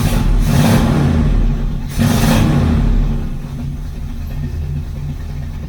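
A 1979 Chevrolet Corvette C3 with a blown-out muffler idles roughly and loudly nearby, with a couple of throttle blips in the first three seconds before settling into a steady, raspy idle.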